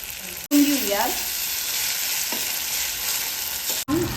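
Onion, tomato and ginger-garlic paste sautéing in a pan for dal tadka, a continuous loud sizzle with a brief clatter of stirring near the start and a sharp break at each end.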